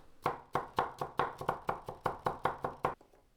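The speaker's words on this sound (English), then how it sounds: "Chop 4 cloves of garlic." A knife chops four garlic cloves on a cutting board in about a dozen steady, close knocks. The rhythm is even, then stops, with no talk.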